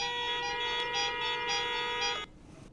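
Long continuous car horn blasts at a toll plaza during a farmers' protest, loud and layered, cutting off abruptly near the end and leaving a low background hum.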